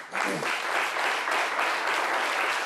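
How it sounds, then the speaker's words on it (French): An audience applauds an association during a live midday broadcast, dense sustained clapping rising quickly and holding steady throughout. "On va prendre l'avis tout en décernant des applaudissements à cette association"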